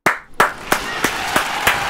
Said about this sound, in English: clap it up for my boy Kane Pixels, man.